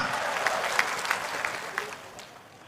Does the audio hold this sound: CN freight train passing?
no